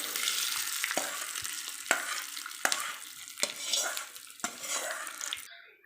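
A mustard seed and curry leaf tempering is poured in and stirred into a drumstick-leaf batter dish. Sharp, regular scrapes of a spoon against the pan sound about every three-quarters of a second over a crackling sizzle, then it stops abruptly.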